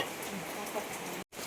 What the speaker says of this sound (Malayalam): നല്ല ഇരുട്ടും മഴയാണ്.